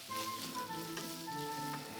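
Butter with sunflower seeds, salt and dried parsley sizzles in a frying pan, a soft, steady crackle heard close and alone, with faint tonal hum in the background.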